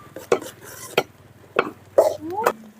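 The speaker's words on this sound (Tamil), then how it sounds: "நல்ல வெங்காயம் கரையிற அளவுக்கு வணக்கணும்" Onions sautéed in sesame oil in a pan, with a spatula scraping and knocking against the metal in a few separate strokes over a faint background sizzle and low hum.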